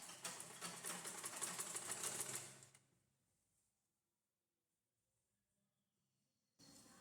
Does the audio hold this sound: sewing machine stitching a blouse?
yes